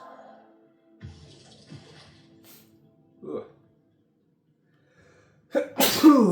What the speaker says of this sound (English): Excuse me, had a sneeze coming on.